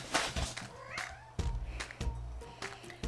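A cat meows insistently several times in a row, close and fairly loud, with short pauses between the cries and a low steady hum underneath.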